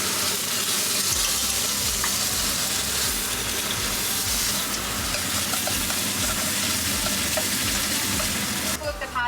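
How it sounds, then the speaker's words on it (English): Pâté sizzles in a hot frying pan while a Vietnamese banh mi sandwich is prepared, with a steady crackling fry and occasional stirring scrapes that continue throughout. "Pate on the fry pan for about 1 to 2 minutes."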